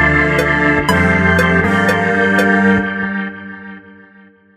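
A sustained synth patch from Cubase's Synth Comp plays a rich harmonic chord with several sharp transient hits early on, then slowly decays and fades out, loud and alone.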